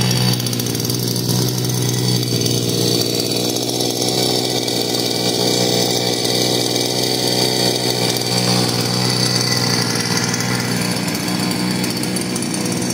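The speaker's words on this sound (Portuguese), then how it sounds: "Roçadeira aí da Palizade chegou hoje, acabamos de montar. Vamos deixar ela maciar aí na lenta" A brand-new Palisad 52cc petrol brush cutter, freshly assembled, idles during its first run-in, a loud, steady two-stroke buzz that drones on unbroken and close to the microphone.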